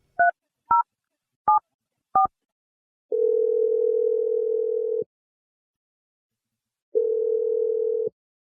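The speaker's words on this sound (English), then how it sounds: "I'm going to dial his number right now." Four short touch-tone dialing beeps at an irregular pace, then two long steady ringback-style tones separated by silence, clean and fairly loud with no voices, as a phone number is called.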